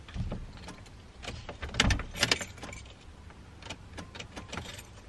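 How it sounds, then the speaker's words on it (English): A key jangles and clicks in the ignition of a 2.3-litre Mitsubishi Evo on a cold day, with a few short mechanical clicks and rattles but no engine turning over or catching. "I'm turning the ignition and nothing's happening"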